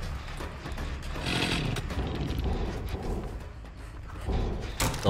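A chainsaw roars and revs in the Dead by Daylight video game, a harsh buzzing drone that lasts several seconds and is mixed with gameplay noise.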